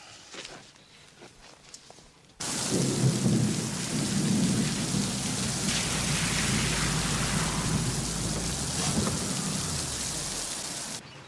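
Heavy rain suddenly pours down after a quiet moment, with rolling thunder rumbling underneath the steady downpour.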